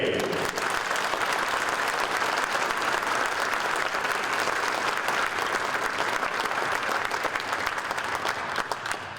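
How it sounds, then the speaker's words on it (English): A crowd at an auto racing hall of fame induction ceremony applauds an inductee, dense, loud and steady clapping that holds throughout and eases slightly at the end. "Let's have a round of applause for another inductee"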